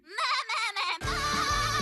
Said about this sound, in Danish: Det her er en ged.